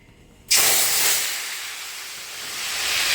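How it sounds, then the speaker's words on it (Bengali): Pointed gourd (potol) hits very hot white oil in a pan, and a sudden loud hiss erupts and then holds as a steady, close frying sizzle that eases slightly before swelling again. "পটলটা চলো ভেজে নিই"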